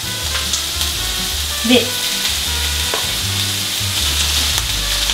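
Chicken breast and eggplant stir-fry in oil in a pan with a loud, constant, close sizzle and a faint clink partway through; a single short word is spoken.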